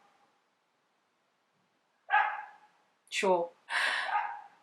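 A dog gives a few sharp barks, one with a falling yelp-like tone, close and fairly loud after a quiet start, with a person's brief speech nearby.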